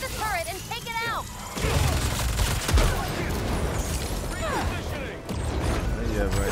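Turret gunfire in the Spider-Man 2 video game comes as bursts of shots and booms, loud and close, mixed with game voices and other action sounds.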